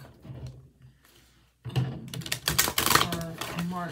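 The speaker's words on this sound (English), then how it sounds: "I'm just going to shuffle and cut the deck." A deck of tarot cards is shuffled and cut close up, giving a quiet stretch and then a burst of rapid, crisp riffling clatter and snaps.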